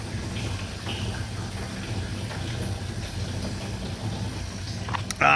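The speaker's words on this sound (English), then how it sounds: "Hopefully you can hear that water running in there." Rainwater runs from a hose into a storage container at an off-grid cabin, a low steady rushing and trickling heard alone at moderate distance, ending with a short sharp noise.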